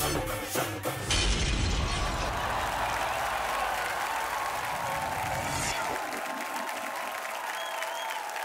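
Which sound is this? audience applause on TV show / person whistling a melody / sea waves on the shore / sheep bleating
audience applause on TV show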